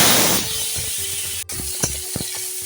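Vegetables drop into a five-spice tempering with radhuni and dried red chillies frying in oil, first a loud hissing burst, then a quieter sizzle with a few scraping stirs and no talk.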